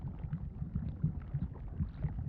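Low rumbling, bubbling lava ambience from an Unreal 5 video game, a continuous murmur of soft irregular gurgles and pops with no voices.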